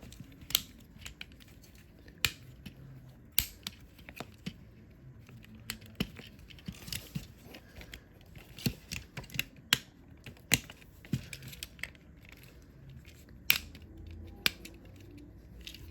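Small plastic tank tread parts of a Transformers Age of the Primes Leader Class Megatronus toy being folded and tabbed together, giving sharp, close clicks and snaps scattered irregularly over quiet handling rustle.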